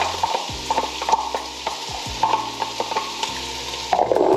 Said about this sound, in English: We're going to saute both of these until they're translucent.